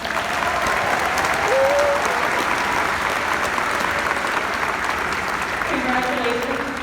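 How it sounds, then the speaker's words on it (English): Graduation ceremony crowd applauding the class of 2021, a thick, continuous wash of clapping from many hands with occasional whoops and a voice rising briefly over it toward the close. "please, a round of applause for the amazing class of 2021"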